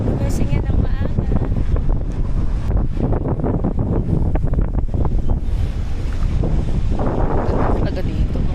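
Strong wind gusts blasting an outdoor microphone during a walk, a loud continuous roar with surf-like swells throughout, and people talking intermittently over it.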